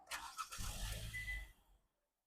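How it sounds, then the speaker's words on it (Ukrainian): A 2016 KIA Sportage engine cranks briefly on the key and catches, running with a low rumble for about a second before cutting off into silence. "Запуск автомобіля у нас проводиться з ключа."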